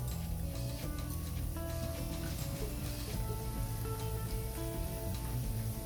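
Garlic cloves sizzling in a pan alongside ground turkey, a steady, even hiss of frying that holds at a constant level throughout, with no talking.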